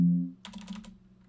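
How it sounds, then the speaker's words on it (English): A short flurry of quick, light keystrokes on a computer keyboard follows a brief low hum, faint and close, while Cisco router settings are entered in a networking lab. "So I'm going to type in"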